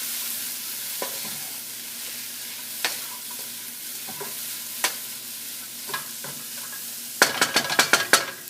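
Food stirred in a frying pan, with garlic powder and basil added, sounds as sparse, distinct scrapes of a utensil spread over several seconds, ending in a quick burst of clattering strokes near the close; no talk.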